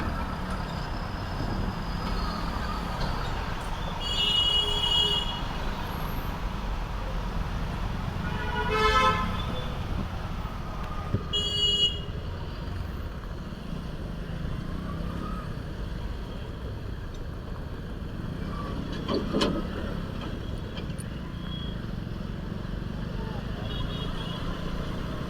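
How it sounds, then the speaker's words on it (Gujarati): Road traffic surrounds a rider on a motorbike stuck in a jam during rain, with an engine rumble and several short car horn toots at close to middle distance, plus scattered talk. "તો ગાઈસ, ટ્રાફિકમાં ફસાઈ ગયા છે થોડા."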